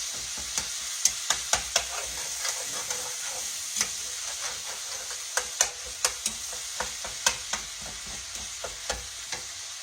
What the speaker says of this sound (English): it's getting to fry really good.